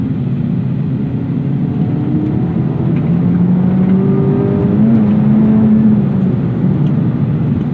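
A modified 2024 Acura Integra Type S engine drones loudly from inside the cabin, its pitch climbing, dropping at a gear change, then rising again steadily.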